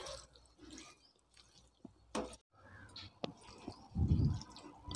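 Chicken pickle pieces are mixed by hand with salt and turmeric, giving soft, wet squelching and clicking sounds in irregular bursts, close and quiet, ending in a louder moist squish.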